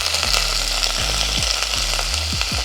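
Curry leaves hit hot oil for puli kulambu, crackling and sizzling loudly nearby. Sharp pops and rapid spitting bursts break out over a constant frying hiss.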